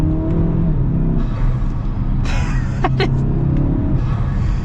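Modified turbocharged Mazda CX-5 revved to high RPM, a loud steady engine drone from inside the cabin broken by sharp hissing whooshes of the turbo blow-off valve venting.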